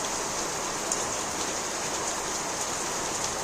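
Heavy pouring rain, a dense steady hiss of downpour with scattered drop impacts, continuous and close.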